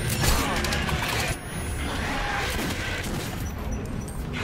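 Shotgun fire in the video game Metro 2033, dense rapid blasts and gunfire noise sustained throughout at high level.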